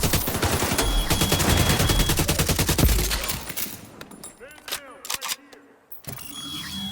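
Rapid automatic rifle fire in The Division 2, a dense burst of repeated shots that stops partway, followed by scattered mechanical clicks, single reports and game voice callouts.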